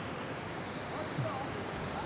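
Constant broadband rush of falling water from a waterfall at Hooker and Triple Falls in North Carolina, steady and fairly loud, mixed with some wind noise.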